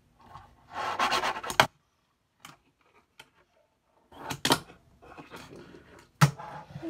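Fingerboard grinding along a rail and landing: two short bursts of scraping rub, each ending in a sharp wooden clack, with scattered light taps between, close and quiet with no talk.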